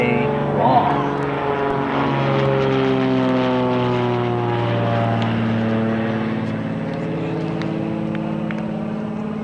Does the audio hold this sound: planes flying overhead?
yes